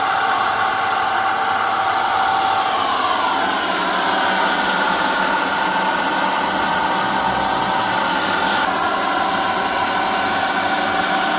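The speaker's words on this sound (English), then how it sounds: "And that's our complete test of the HYCHIKA paint sprayer with its 1200 ml capacity." A HYCHIKA 600W HVLP electric paint sprayer with a 1200 ml cup runs continuously, a loud, even motor whine and airy hiss holding steady for the whole stretch with no voices.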